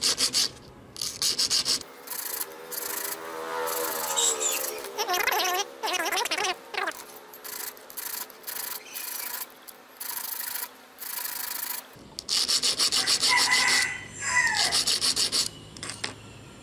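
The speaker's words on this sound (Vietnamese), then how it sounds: "Anh chị em lấy cái dũa hoặc kiếm, nếu mà có máy mài mình mài cho cái đầu này nó nhọn lên" A file rasps back and forth on the worn pin tip of an industrial sewing machine, in repeated short, close strokes with brief pauses between them and no one speaking.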